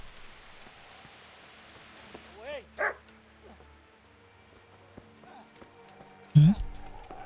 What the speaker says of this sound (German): Ein Hund.